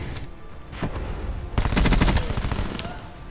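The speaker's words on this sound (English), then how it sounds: "I'm getting shot from 50 different people all spamming at me at one time." Automatic gunfire in the shooter Call of Duty: Black Ops 4, a short loud burst of rapid shots after a quieter opening, close and dense as several weapons fire at once.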